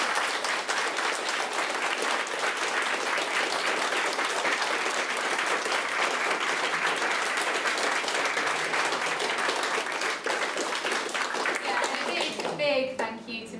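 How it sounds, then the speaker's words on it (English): Sustained audience applause at a literary awards event for prize-winning young British novelists, a dense, loud wash of many hands clapping that continues steadily before fading at the end. "big round of applause."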